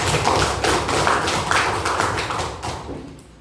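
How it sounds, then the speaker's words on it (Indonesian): A group claps together in a classroom for a student's answer, a dense run of hand claps filling the space at close range, fading toward the end. "Tepuk tangan lagi sekali lagi."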